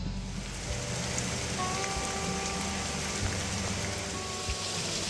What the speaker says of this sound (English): And finally, the rains came.